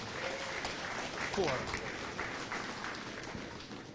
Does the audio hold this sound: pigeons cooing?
no